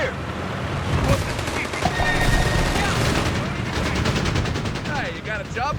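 Gunfire in the Company of Heroes 3 strategy game: a dense fusillade of rifle and machine-gun shots with occasional heavier booms, continuous and loud throughout.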